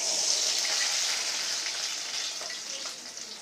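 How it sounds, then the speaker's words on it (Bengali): A paste of onion, tomato, ginger, garlic and shrimp fries in hot oil, giving a steady close sizzle that fades slightly toward the end, with no voices over it. "আমার মশলাটা ভাজা হোক"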